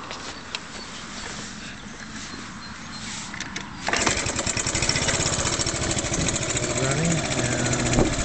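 A 1973 Honda Chaly CF70 mini bike engine fires up partway through after quiet handling sounds, then settles into a steady, close, buzzing small-engine idle that runs alone to the end.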